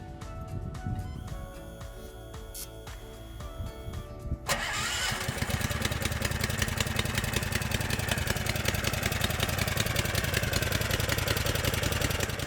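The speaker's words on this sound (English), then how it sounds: "We don't need to adjust the choke when we start the engine, and the injection engine starts easily in any weather." A fuel-injected motorized sled engine, a Tofalar with a high-pressure fuel pump and no choke, cranks briefly, catches after about four seconds and settles into a steady, close, rapid idle chatter.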